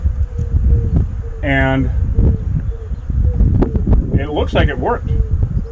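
Killer bees buzz in a steady, dense drone around their hive outdoors, with wind noise and rustling mixed in, while people talk over the swarm.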